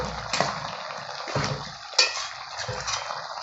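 A spoon stirs poppy seed paste with potatoes and bori in a pan, making close, wet scraping strokes and a sharp metallic knock near the middle.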